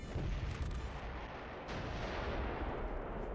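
A sustained artillery barrage in the World War II strategy game Close Combat 3, with dense overlapping booms and rumbling blasts that run together into one loud, continuous roar.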